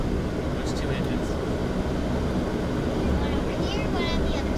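Twin airplane engines drone inside the passenger cabin on a first plane ride, a steady broadband roar filling the whole stretch with faint voices above it.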